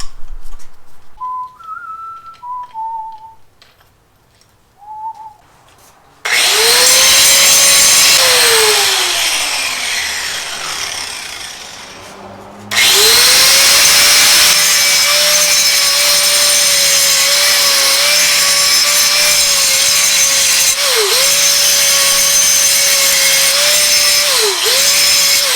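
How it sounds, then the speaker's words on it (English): An angle grinder runs against steel on a Detroit Diesel 671 engine cradle being modified in a shop, letting out two long, loud, steady whining runs with a brief stop between them. "grinder back on there."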